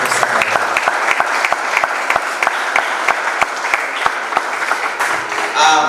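A church congregation claps together in steady, loud applause that runs the whole time, a dense patter of hands, with a brief voice rising near the end.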